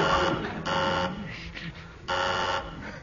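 A loud electronic buzzer sounds in three long bursts separated by short gaps, with a voice briefly heard in between, on a radio comedy panel game.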